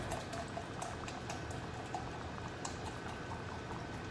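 Beef broth pours into a pot as a soft, continuous liquid rush with faint bubbling, quiet and steady throughout.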